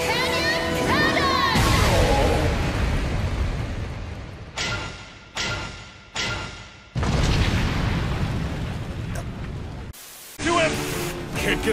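A series of heavy booming explosions from an anime fight, loud bursts with rushing noise, broken by abrupt cuts and brief silences, with voices mixed in among the blasts.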